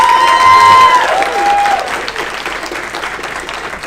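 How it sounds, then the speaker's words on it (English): A conference audience at NA Brno dobrý 2022 applauds a speaker coming on stage: loud, dense clapping at full strength at first, then easing off over a few seconds, with a brief spoken word over it. "let's give her a round of applause."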